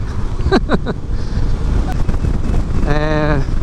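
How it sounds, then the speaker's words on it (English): Wind buffets the rider on a moving Yamaha Tracer 700 motorcycle, a steady, loud, low rumble throughout, with a few brief voice sounds and a short tonal beep near the end. "It's a little bit of wind buffeting."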